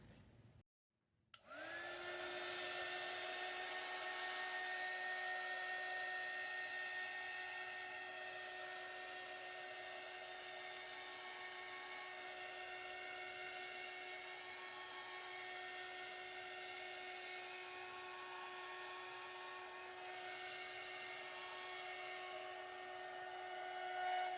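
Handheld heat dryer blowing on a painted craft tag, a steady close whirring hum with a high whine that starts after a brief click and runs unbroken.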